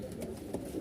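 Pigeons in a coop give a short, soft cooing call, heard close and alone against a quiet background.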